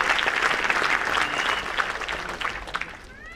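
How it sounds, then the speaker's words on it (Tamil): Audience applause fills a Tamil film audio launch event, loud and sustained throughout, a dense wash of many hands clapping that eases slightly toward the end. "உங்களுடைய கைத்தட்டல் மூலமாக அவருக்கு உங்களுடைய ஆசீர்வாதத்தை கொடுங்கள்."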